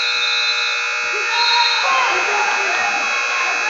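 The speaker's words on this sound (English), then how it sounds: "A lot of buzzers, a lot of whistles in the gym right now." At a high school wrestling dual meet, a loud, sustained electronic buzzer drones over a noisy gym, with a shrill whistle-like tone and crowd murmur beneath it.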